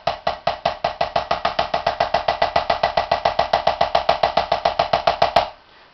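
A steady, even roll of snare strokes played with classical finger technique, about six hits per second, all at similar volume, played alone and ending abruptly.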